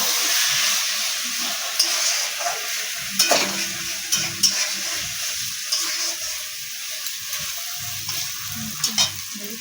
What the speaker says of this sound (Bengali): দেখো বন্ধুরা শাকটা ভাজা হয়ে গেছে